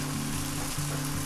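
Onion and spice powder fry in a pan for Kerala-style pork roast, giving a steady, even sizzle with a low hum underneath and no talking.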